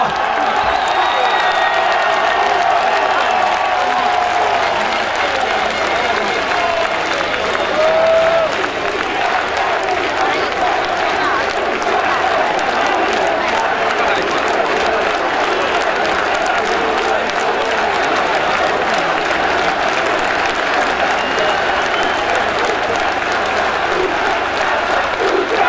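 Large rally crowd in Piazza San Giovanni, Rome, applauding and cheering in a sustained dense wash, with a speaker's voice carrying over the noise.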